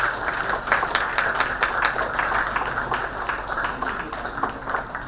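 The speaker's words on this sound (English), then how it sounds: "Ladies and gentlemen, please give our biggest applause." An audience at a public lecture at Universitas Paramadina claps together, a moderately loud, even patter of many hands that carries on for several seconds with no voices.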